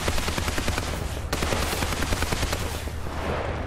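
Rapid bursts of gunfire from tank combat in the video game War Thunder, loud and continuous, with dense overlapping shots and machine-gun rattle throughout.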